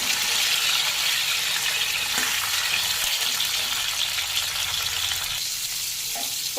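Pointed gourds (potol) fry in hot mustard oil with a dense, even sizzle and faint spatter that runs throughout, slightly easing near the end.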